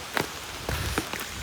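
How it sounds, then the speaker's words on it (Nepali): Light rain falling outdoors, a steady soft patter with a few louder drops standing out, no voices. "पानी सिमसिम परिरहेछ होइन ठुलो त परेको छैन"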